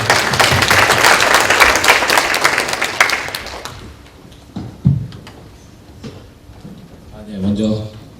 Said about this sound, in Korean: 박수로 여러분 부탁드립니다.